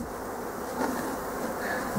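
A dense, steady buzzing of honey bees, close and continuous, with no voices.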